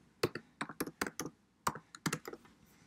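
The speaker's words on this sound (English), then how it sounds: "We'll just type in remote learning." Bursts of crisp keystrokes on a computer keyboard as a short phrase is typed, close and clear, with a brief pause midway and no talk.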